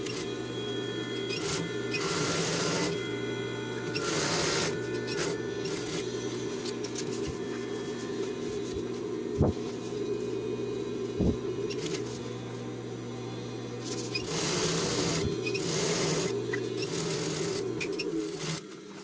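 A sewing machine stitches the folded hem on the back piece of a rain jacket, running in steady bursts with short pauses between them and a couple of sharp clicks, close and alone.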